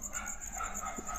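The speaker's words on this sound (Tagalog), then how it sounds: "Aso." Dog barking in a dark cemetery at night, a faint distant yip or short whine carried over a steady hiss of background noise, brief and barely above the ambience.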